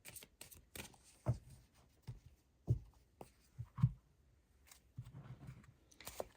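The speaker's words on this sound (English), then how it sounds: "I'm going to lay down 12 cards here." Tarot cards are laid down one by one on a table, giving soft, quiet slaps and slides at an uneven pace, with light shuffling and rustling between them and no talking.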